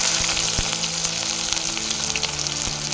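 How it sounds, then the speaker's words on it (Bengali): Onion paste frying in hot oil with five-spice and whole dried chillies, a loud, close, continuous sizzle with a few small pops and clicks of a spoon against the pan. "তারপর এর মধ্যে দেবো পেঁয়াজ বাটা, হাফ বাটা করা আছে"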